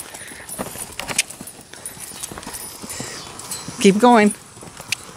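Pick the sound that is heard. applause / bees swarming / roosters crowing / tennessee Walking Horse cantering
tennessee Walking Horse cantering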